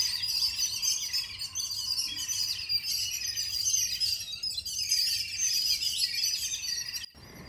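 A Konava kuruvi bird calls with a dense, continuous stream of high, thin chirps and trills, fairly loud and close, with faint background ambience and no talking.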